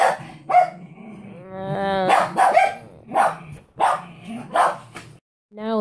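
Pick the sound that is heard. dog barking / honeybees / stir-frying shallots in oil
dog barking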